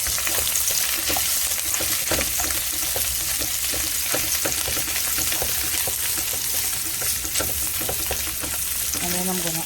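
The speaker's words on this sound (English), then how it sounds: "I just letting this onion cook a little, maybe for 2 minutes" Chopped onion frying with garlic and ginger in a pot, a loud steady sizzle with intermittent stirring scrapes and clatter throughout, no talking.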